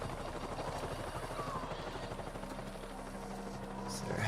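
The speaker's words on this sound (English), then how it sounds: "Is there a helicopter or something?" A helicopter drones in Avatar: Frontiers of Pandora, a steady low rotor chop filling the background with constant loud whirring noise throughout.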